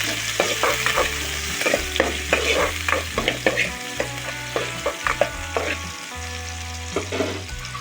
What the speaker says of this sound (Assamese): পিঁয়াজখিনি একেবাৰে মিহি মিহিকৈ কাটি লৈছোঁ এইখিনি একদম গেছটো কম কৰি পিনি অকণমান দি ভাজি ল'ম